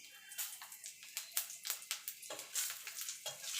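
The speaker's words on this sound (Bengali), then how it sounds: "এবার ফোড়নটা একটুখানি ভাজা ভাজা করে নেব।" Bay leaves, dried red chillies and whole cumin seeds frying as a tempering in hot oil, giving a near, steady crackle and sizzle with sharp popping bursts throughout, and no voices.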